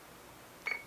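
A TR-751A radio gives a single short, faint electronic beep alerting to traffic on the priority memory channel, alone over a quiet hiss.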